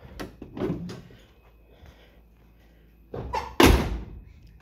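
A 1969 Dodge Super Bee's car door is moved and then shut with a solid, close thump near the end, after some lighter handling knocks and clicks, with no talking.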